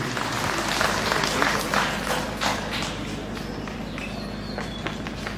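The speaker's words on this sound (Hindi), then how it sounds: "जोरदार तालियां हो जाए हमारे Bharatanatyam dancers के लिए।" An audience applauds Bharatanatyam dancers at a college cultural event, with crisp, fairly close clapping that gradually thins out.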